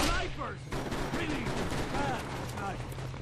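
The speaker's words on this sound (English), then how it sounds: "are y'all just shooting at the wall now?" Gunfire in the video game Mercenaries 2, a dense barrage of shots that runs steadily through the whole stretch. A voice can be heard talking over the shooting.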